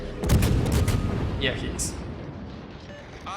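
Naval guns fire in the World of Warships video game, with a heavy boom at the start and rumbling battle noise that fades. Someone speaks briefly over the gunfire.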